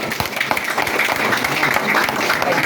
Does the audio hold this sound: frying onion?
no